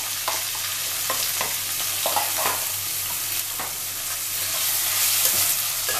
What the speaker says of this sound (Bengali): এই সময় আমি দিয়ে দেব পেঁয়াজ কুচি।